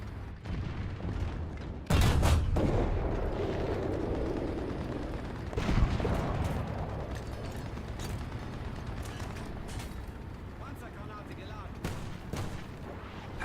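Rapid gunfire from the BT gun in a shooter video game, dense bursts with sharp booms around two and six seconds, continuing over a steady background of game noise and speech.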